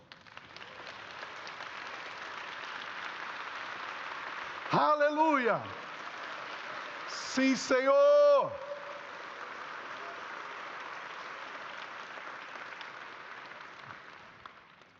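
A church congregation stands and applauds Jesus, steady broad clapping filling the whole stretch, with two short bursts of voices shouting praise rising above it partway through.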